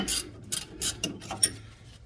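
A wrench loosens the top nut on a coilover during a suspension install, giving a few close metallic ratcheting clicks and scrapes in a short sequence.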